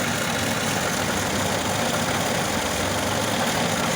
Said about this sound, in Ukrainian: Зараз спробую завести. Завівся.